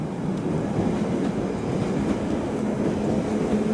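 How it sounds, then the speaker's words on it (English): A London Underground Bakerloo line train at Stonebridge Park station gives a steady, close rumble with rhythmic wheel clatter throughout. There is no talking. "The train now standing at platform 2 is the London Underground, service to Harrow and Wealdstone"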